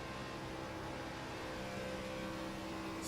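A race car engine in a racing video game holds a steady, high droning whir, revs carrying on without shifting, faint and continuous with no talk over it.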